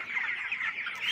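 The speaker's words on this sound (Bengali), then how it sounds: "এই যে এখানে হচ্ছে 1500 মুরগি আছে।" A poultry shed holding about 1500 chickens, 22 days old, fills with dense, continuous clucking and chirping from the flock, steady and fairly close.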